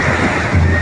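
Swollen river floodwater rushes past near a bridge, a loud, broad roaring wash with heavy wind rumble on the microphone, in one brief unbroken burst.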